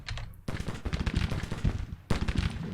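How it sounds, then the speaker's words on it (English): Cannon artillery booming in the Civil War strategy game Grand Tactician, a dense run of sharp, rapid blasts close together, with a brief lull before another loud burst near the end. "Cannons are opening up."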